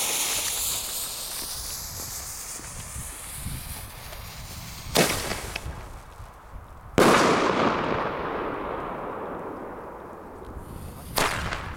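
A Thunder King firecracker explodes outdoors in two sharp, loud bangs a couple of seconds apart, each with a rushing decay, then a third crack, over steady background hiss with no talk.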